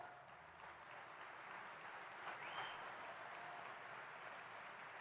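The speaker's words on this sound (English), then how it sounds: "Yeah, let's not clap for that." A Bitcoin conference crowd gives a faint, steady burst of applause, a continuous distant wash of many hands clapping for several seconds.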